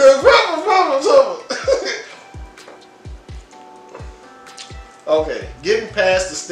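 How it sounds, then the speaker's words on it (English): Several short coughs sit between bursts of a young voice talking, with a brief quiet stretch in the middle. "Hey, I'm coughing."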